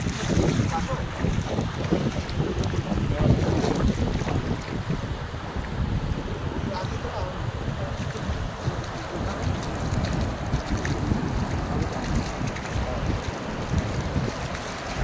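At the seashore, wind buffets the microphone with loud, continuous gusts, mixed with surf and the sound of boats. Faint voices are heard under the rush.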